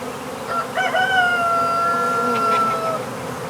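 Bees swarming near a beehive being captured outdoors, a close buzzing drone with sustained rising and falling whining tones lasting a few seconds over a low background hum.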